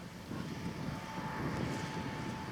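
A John Deere 8295R tractor pulling a six-bottom John Deere 995 reversible moldboard plow through a field in Faceville, Georgia, with a front-mounted soil fumigant tank; a steady, broad engine drone with wind-like rumble, no talk.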